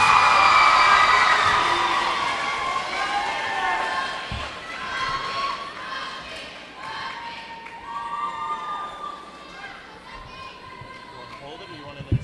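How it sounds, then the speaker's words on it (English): Audience at a 2012 high school poetry slam cheers and applauds a poet, a loud, dense crowd roar with whoops and shouting voices that stays strong throughout and eases slightly toward the end. "let's have a big round of applause for our next poet, Rebecca"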